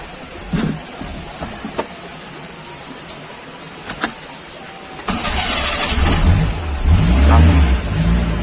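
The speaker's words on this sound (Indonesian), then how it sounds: "Mesin langsung nyala" A motorcycle engine starts on its electric starter after a few short clicks and key sounds, then settles into a loud, steady idle with a brief rise in revs, close to the microphone.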